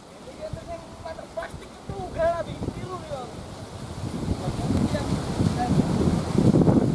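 Strong gusty wind buffets the microphone outdoors during dry-season bird hunting, building louder over several seconds with brief bird chirps heard early on.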